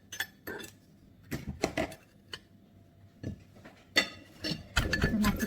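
Utensils clink and knock against a bowl while Thai papaya salad is mixed, irregular clusters of sharp clatters and scrapes separated by quiet gaps, louder toward the end.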